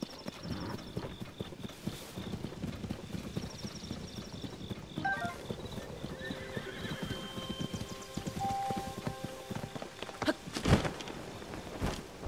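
Horses walk and neigh in The Legend of Zelda: Tears of the Kingdom, with steady hoof clip-clops, a whinny, and game music tones ringing above them, no voices heard.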